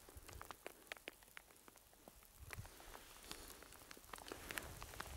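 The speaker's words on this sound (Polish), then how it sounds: "A w dole to, co było zielone 3 godziny temu, jest białe, bo pada grad." Hail pelts the ground on the slopes of Cotopaxi in Ecuador, a dense, steady patter of many small ticks and sharp clicks, fairly faint and continuous, with no voices.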